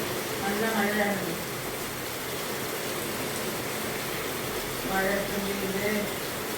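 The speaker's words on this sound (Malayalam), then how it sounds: "നല്ല മഴയാണ്." Heavy rain pours down in a steady, dense hiss that never lets up, while a person speaks briefly over it near the start and again toward the end.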